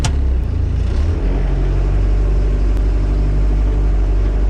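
A diesel Jeep TJ Wrangler in four-wheel high with the doubler in high gear climbs off-road, its engine a loud, steady low rumble that swells briefly at the start and then holds under light throttle.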